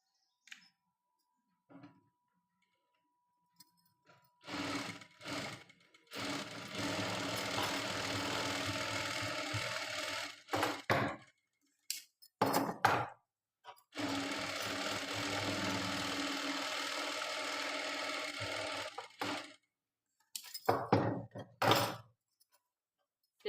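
A tailor's sewing machine stitches a blouse front in bursts: two long runs of fast, even mechanical whirring, each several seconds, broken by short starts, pauses and clicks, close and clear with no talking.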